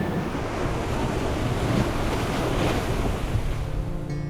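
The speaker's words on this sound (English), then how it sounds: "6 or 7 real nice waves come through" Ocean surf breaks along the coast of South-West Australia as a continuous roaring wash, loud and steady, with wind buffeting the microphone and no voices.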